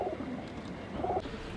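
Army pigeons cooing close by, a soft low murmuring coo rising near the start and again about a second later over steady background noise.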